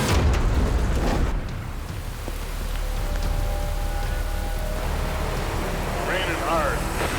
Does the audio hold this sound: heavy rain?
yes